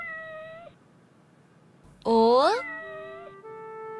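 A cat gives a loud, clear meow in a quiet home, near the microphone, with a woman calling to it just before.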